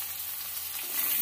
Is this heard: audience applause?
no